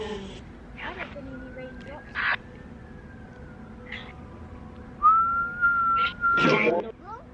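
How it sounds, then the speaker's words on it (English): A person whistles long, sliding single tones, rising and falling and later holding a steady high note, between short bursts of outdoor noise and voices. "If I whistle, can you do it after me?"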